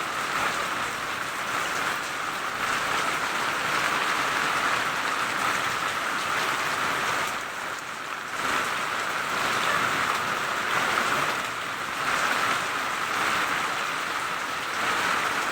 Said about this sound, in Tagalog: Ay, sa wakas umulan.